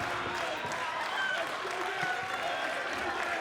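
A wrestling crowd at a heavyweight championship match applauds and roars in a dense, sustained wash of clapping and cheering that fills the arena throughout.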